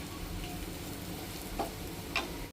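A radish fry gets stirred in a pan after a sprinkle of coriander: soft continuous sizzling with a few light scraping clinks of the spoon against the pan, close and fairly quiet.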